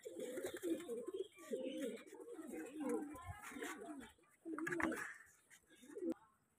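A young pigeon cooing close by in soft, repeated throaty phrases with short pauses between them, fairly quiet, with no clear speech over it.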